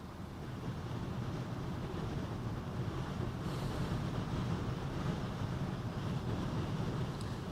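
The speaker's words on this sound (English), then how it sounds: "The wind is picking up a little bit again" Wind gusts across the Westerschelde estuary in the Netherlands, a broad steady roar buffeting the microphone for the whole stretch, with faint water and ship rumble underneath.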